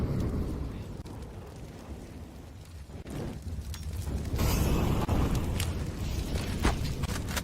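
Molotov or incendiary fire burning during a competitive Counter-Strike match on Vertigo, a steady roaring crackle that swells louder midway, with no talk over it.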